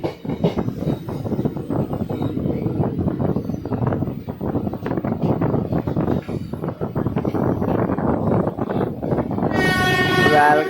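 Solapur Express pulls into Nellore railway station with a loud, close rumble and rhythmic wheel clatter, ending in a bright blast of the horn.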